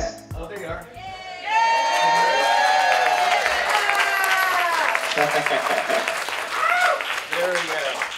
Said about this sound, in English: round of applause, another round of applause for Sean Baker